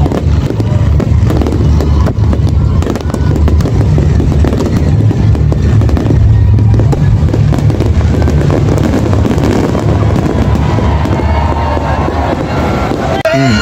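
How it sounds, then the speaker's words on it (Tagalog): Fireworks burst over an Independence Day celebration at Quirino Grandstand, a dense, continuous rumble of booms and crackle layered with loud crowd noise throughout. "Ayan, fireworks."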